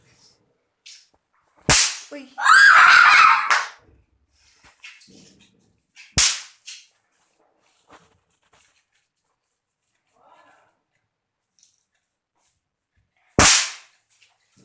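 Pop bomb firecrackers thrown down during Diwali burst in three sharp, loud cracks, spaced well apart, with a rough scraping burst and brief voices between them.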